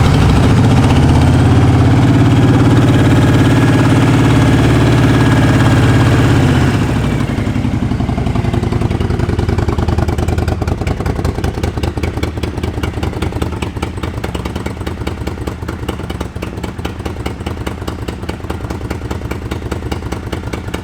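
A 2003 Honda VTX 1300 motorcycle engine cranks and fires up right away, then settles into a loud, close, steady idle with a rapid rhythmic lumpy beat.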